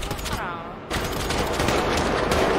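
Gunfire in Grand Theft Auto, a loud burst of shots that rattles on over a continuous roar of noise, close and harsh.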